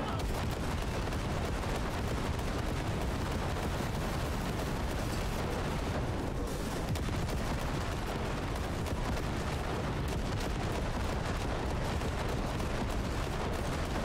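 Dense video-game gunfire and explosions roar continuously, loud and close, with overlapping shots and blasts forming a steady wall of combat noise and no clear pauses.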